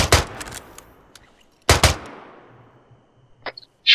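Gunfire in the military shooter game ARMA: two sharp, loud shots or short bursts with long decaying echoes, then quieter distant cracks near the end.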